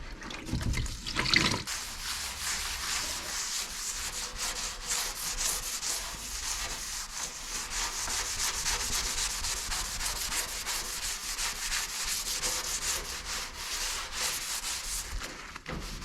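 Rust remover gel being scrubbed and washed off the metal of a Ford XW, a steady rough rubbing and sanding texture mixed with trickling water, continuous and fairly close, with no voices.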